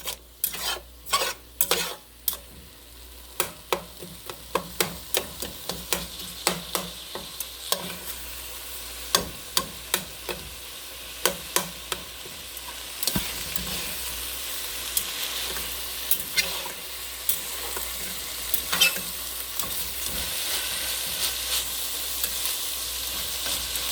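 Spoon stirring deer meat as it fries in a pan over medium-low heat for chili, a run of sharp scraping knocks early on settling into a continuous close sizzle with occasional clinks.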